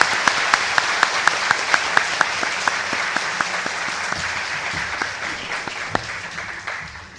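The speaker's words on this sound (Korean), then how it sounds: "박수로 맞아주십시오." An audience claps to welcome a speaker onto a stage at a political talk event in Gwangju, the applause dense and steady with a few sharp, rhythmic claps standing out before it tapers off.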